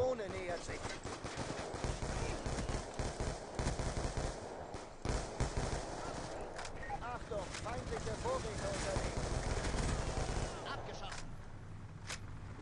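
Pistol shots ring out in Call of Duty Black Ops 2, quick scattered cracks and bursts running through a busy match while a player talks over them.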